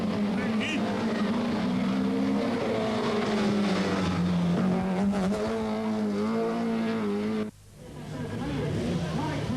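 A rented Opel Ascona rally car driven by Per Eklund sets off at the start of a special stage, its engine revving loudly with a rising and falling pitch before the sound cuts off abruptly and then returns more faintly.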